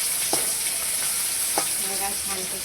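Onion frying in a pan, a steady bright sizzle with a couple of faint knocks from a spoon, heard up close and alone.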